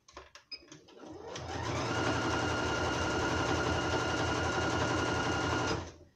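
A sewing machine stitches an apron from tea towel and fabric bands, starting with a few clicks before settling into a steady, loud, rapid mechanical whir that runs for about five seconds and then stops.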